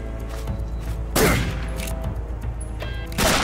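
Gunfire in the video game Metal Gear Solid 3: Snake Eater, during a duel with Ocelot, comes as a few loud sharp bursts separated by quieter stretches of game ambience.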